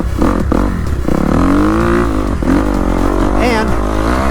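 A motocross bike laps the Mesa MX sand training track, its engine close and loud, rising and falling continuously as the rider works the throttle through the sand.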